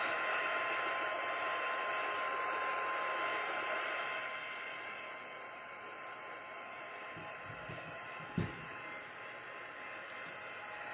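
A heat tool blows steadily at close range while warming a card in a crafting session, a continuous airy whoosh that softens partway through, with a couple of faint knocks near the end.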